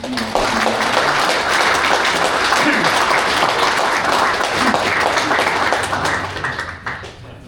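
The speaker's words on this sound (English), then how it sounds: "So I think it's probably worthy of a round of applause to Dennis" Sustained applause from a large crowd at a football and netball club's 150th celebration, dense and steady for about seven seconds before thinning out at the end.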